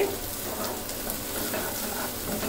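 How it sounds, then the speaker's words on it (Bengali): Chicken bhuna being stir-fried in a pan over lowered heat, giving a steady, moderately loud sizzle with scraping stir sounds throughout, and no voices. "এখন এটা ভুনে নিচ্ছি 2 মিনিট।"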